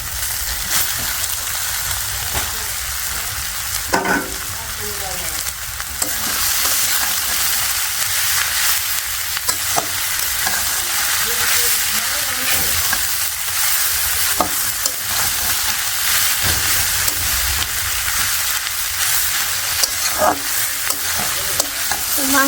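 Meat frying in a pan with onion, turmeric and chili powder, stirred now and then, giving a steady close sizzle broken by scraping and stirring clatter that carries through the whole stretch with no talk.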